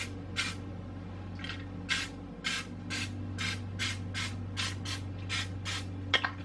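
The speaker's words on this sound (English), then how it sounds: "I always spray my liners, even if it doesn't call for it." Cooking spray hisses into paper muffin liners in a home kitchen in about a dozen short, evenly spaced bursts, near and moderately loud over a steady low appliance hum.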